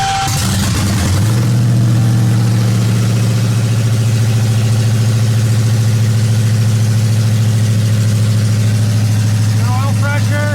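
A 2018 widebody Dodge Challenger Hellcat V8, running with no exhaust fitted, cranks and fires, then settles into a loud, steady, raw idle close by.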